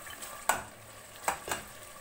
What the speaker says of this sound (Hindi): आप ये देख सकते हैं मसाला अच्छे से भून गया।